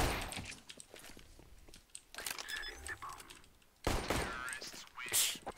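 Bursts of gunfire from burst fire mode in an online shooter game ring out in quick clusters amid game sounds and footsteps.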